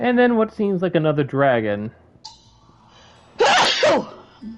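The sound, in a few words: sneeze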